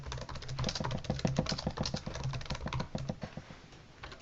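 Rapid keystrokes on a computer keyboard come as a close, quiet, irregular run of clicks over a faint hum, with no voices.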